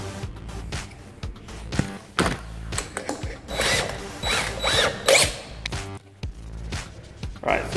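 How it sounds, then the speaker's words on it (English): A DeWalt DWAR100 right angle attachment is snapped onto a drill: a series of irregular plastic and metal clicks, ratcheting clacks and handling rattles, close up. "we're gonna attach this to our drill"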